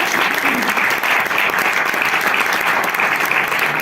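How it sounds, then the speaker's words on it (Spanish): Warm applause from an audience welcoming a poet at a poetry reading, loud and continuous clapping that fills the room evenly from start to finish without any voices breaking through. "la recibimos con un aplausito"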